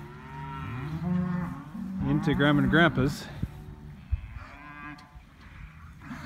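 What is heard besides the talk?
cattle mooing, stirred up at night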